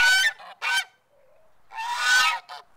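Guard geese on a farm honk in loud, close, harsh bursts. Several separate calls come with short gaps between them, and one longer honking stretch comes near the end.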